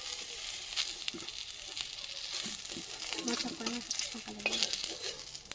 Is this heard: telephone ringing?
no